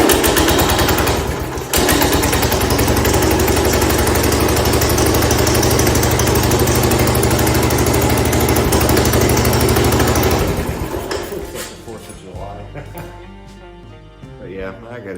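Small single-cylinder engine of a Cub Cadet 127 lawn tractor, running after a head gasket replacement with a faulty regulator, loud and steady with a harsh rattling drone for about ten seconds before cutting out to quieter clanks.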